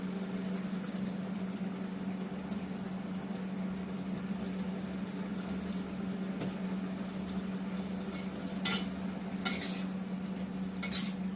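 Cauliflower curry in a pan being finished with garam masala and ghee: a few sharp spoon clinks near the end over a steady low electrical hum, with little else audible.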